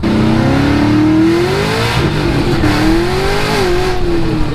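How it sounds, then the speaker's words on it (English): A Pontiac GTO's engine revs hard on the move, a loud, close roar with rising pitch that dips between gear changes and climbs again, no voices present. "I've been driving the GTO, and I feel like it can handle it now"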